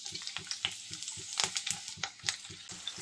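Onions and green chillies fry in oil with a close, crackling sizzle, punctuated by a steady rhythm of stirring scrapes roughly every few tenths of a second.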